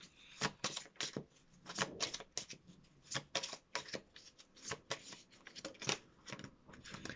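Tarot cards shuffled by hand, a quick run of soft, irregular riffling flicks and snaps, close and fairly quiet with no voices.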